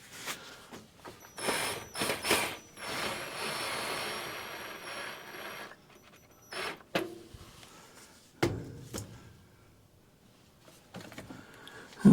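A ratchet or screwdriver drives a screw into a Clayton wood furnace, giving quiet mechanical clicking and whirring bursts with gaps, followed by a few sharp knocks near the end.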